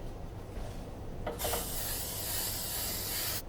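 A short burst of hissing cooking spray onto the back of a pan, steady for about two seconds, close up, then cutting off abruptly.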